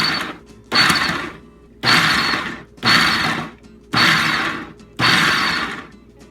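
A food processor pulses chopped onion for pico de gallo in six short, loud whirring bursts, each about half a second long, separated by brief pauses, with blades chopping through the onion.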